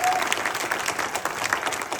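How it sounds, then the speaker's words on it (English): A room full of people at a leadership training event claps together in a steady, dense round of applause that fills the whole two seconds at an even, fairly loud level. "Give yourself a big round of applause for being here."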